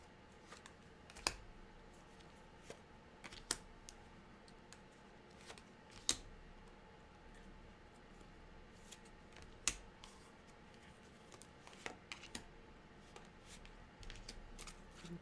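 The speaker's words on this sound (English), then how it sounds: "Some people really find the sound of the cards shuffling very healing." Cards being shuffled close up, a steady soft riffling patter punctuated by sharper snaps and clicks, with no talking.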